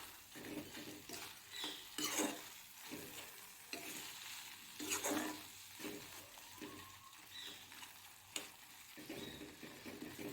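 Spoon stirring taro pitika in a pan on a gas stove, with steady scraping strokes and a soft sizzle, close and fairly quiet, no voices.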